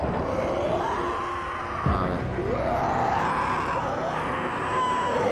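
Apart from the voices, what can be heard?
people screaming in the video game Dying Light 2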